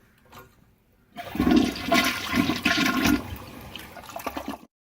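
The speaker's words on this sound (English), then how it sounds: "When you're done, you can just dump it down the toilet." A toilet flushes nearby after a near-silent lead-in, a loud rushing swirl of water that drains steadily for a few seconds before cutting off abruptly, with no voices.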